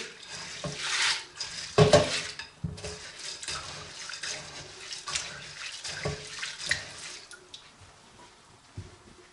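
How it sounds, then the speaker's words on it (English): Pinto beans squished by hand in a bowl of soaking water, giving wet sloshing and splashing noises in uneven bursts, close and fairly loud, with no talking. "we're going to soak in the water for a little bit. Kind of squish them around, make sure they're not dirty."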